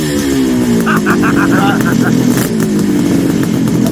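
A Fast by Gast Kawasaki H2 motorcycle engine runs close by, a loud, steady two-stroke drone that rises and falls in pitch, with people talking over it.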